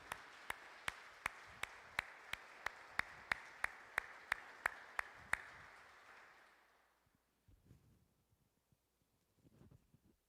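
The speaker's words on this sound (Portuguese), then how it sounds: "Dá uma salva de palmas para Jesus." A church congregation claps together in a steady, even rhythm, about fifteen sharp claps in quick succession, before the clapping stops and the room falls nearly silent with faint rustling.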